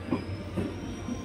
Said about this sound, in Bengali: লীলামবাজার স্টেশনে ঢুকে গেল ট্রেনটা।